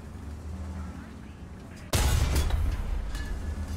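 A tank's main gun fires in War Thunder, one sudden loud blast cutting through quiet engine rumble and leaving a sustained roar behind it.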